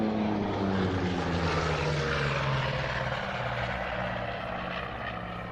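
A propeller aircraft makes a photo pass during airshow practice, its loud, steady engine drone sustained throughout and easing slightly toward the end, with no voices.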